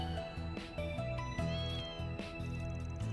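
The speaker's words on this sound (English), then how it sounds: "Hey look, there's a kitten over here." A kitten meows in the video game The Legend of Heroes: Trails through Daybreak II, giving a few short, soft mews over steady, sustained in-game music, with no talking.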